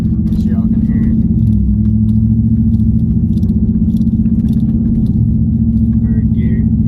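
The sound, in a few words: 2014-2015 Chevrolet Silverado with no muffler pulling away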